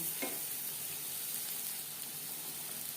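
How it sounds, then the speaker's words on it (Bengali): Onions sizzle and fry steadily in a hot pan while cooking for homemade dal fry, a close, continuous crackling hiss with a faint clink of stirring near the start and no talk. "পেঁয়াজ প্রায় এইট্টি পারসেন্ট ভেজে নেব"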